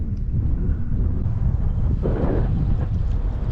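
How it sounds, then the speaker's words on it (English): Wind buffets the microphone while kayaking on open water along Florida's Nature Coast near Ozello, a loud continuous low rumble with gusty swells and no talking. "I'm just sitting here looking at that wind, not really wanting to fight it"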